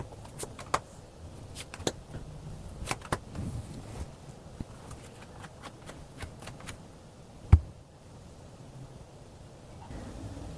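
Tarot cards shuffled and drawn during a reading, heard as soft papery riffling with scattered sharp snaps and taps, one louder slap near the end, close and quiet without any talk.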